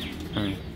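A single short coo from a pigeon kept by a fancier, close and brief, set against faint background noise.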